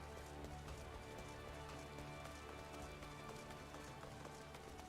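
Steady rain pattering across the scene in a Final Fantasy game, with faint footsteps running through it, a quiet continuous wash with no talk.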